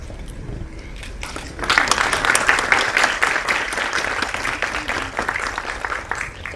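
Audience applause at a Marathi movie trailer launch hosted by Mahesh Kothare, starting softly and swelling into a steady, fairly loud ovation of many hands that carries on to the end.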